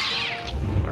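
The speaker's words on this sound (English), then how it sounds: "I wish for a kitten." A cat meows once, a short, fairly close call inside the VR game Ajax All Powerful, with some low rumble underneath.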